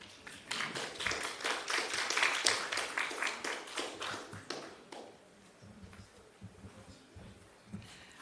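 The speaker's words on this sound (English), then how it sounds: "let's have another round of applause for our presenters this morning" Conference audience applauding presenters at a national health research meeting, a dense patter of claps swelling over the first few seconds, then thinning into scattered, fading claps.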